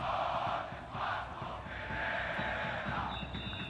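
Zamalek football fans chanting for Ferreira in a stadium during a match against Future, a broad, roaring mass of voices carrying continuously in the distance.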